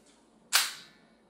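A single sharp, loud crack from an Umarex T4E TR50 defense revolver being fired close by, decaying quickly into quiet surroundings.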